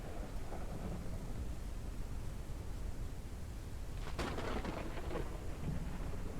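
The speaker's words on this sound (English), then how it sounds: "Seeing that lightning crackle over here doesn't make me comfortable" Video game thunderstorm with a sharp lightning crack and rolling thunder about two-thirds of the way through, over a continuous hiss of rain; no voices.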